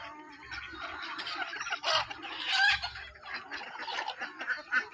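Free-range country chickens of mixed colours, parent breeding stock on a poultry farm, clucking repeatedly in a close, busy chorus, with no talking.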